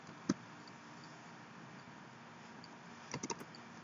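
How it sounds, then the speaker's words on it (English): Keys tapped on a computer keyboard while entering a Laravel 6.2 route in code: one sharp click early on, then a quick cluster of three or four clicks near the end, over a faint steady room hiss. "So I am just typing here"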